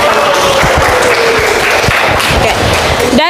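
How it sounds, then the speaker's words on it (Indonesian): Classroom applause for students who presented, steady clapping filling the room throughout, with a brief voice at the very end. "tepuk tangan untuk kita semua yang sudah mempresentasikan di depan."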